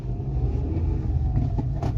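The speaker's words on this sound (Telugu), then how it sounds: "ఫస్ట్ గేర్ వేసుకొని డౌన్ చేసి మూవ్ చేయబోతాను." A Hyundai Exter pulls away in first gear, its low engine rumble steady and close for about two seconds with no talking.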